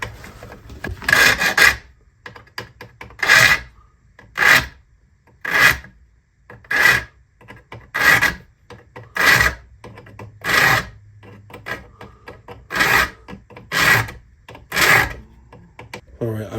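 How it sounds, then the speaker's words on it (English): A file rasps across the teeth of a 9-point-per-inch rip cut hand saw held in a vise, in about a dozen evenly spaced strokes, each a bright scraping burst separated by brief pauses, close and distinct. "Let's get this sharpened. It's just a regular rip cut saw."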